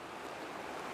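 Fast, high river water running hard at about 70 centimetres on the Meander River, a steady broad rushing wash with no breaks, close by and fairly loud.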